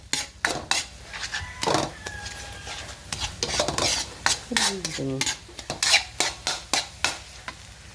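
Egg being broken up and scrambled in a pan with a utensil for a simple Filipino vegetable and egg dish: repeated sharp scraping and clacking strokes against the pan over a soft sizzle, close and fairly loud, no talk.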